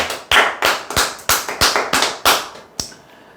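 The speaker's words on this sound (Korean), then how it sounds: "박수!" Sharp, loud claps ring out at the end of a lecture, about nine evenly spaced strikes in a quick rhythm, then one last clap after a short pause before it goes quiet.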